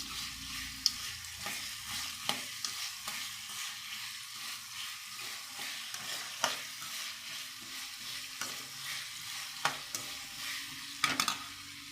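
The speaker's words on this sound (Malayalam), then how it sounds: "ഇറച്ചി തിളച്ച് വറ്റിക്കൊണ്ടിരിക്കുകയാണ്." Beef curry, browned with turmeric, simmers and reduces in a pan: a steady sizzle runs throughout, broken by sharp scraping clicks of stirring every second or so, with no voices.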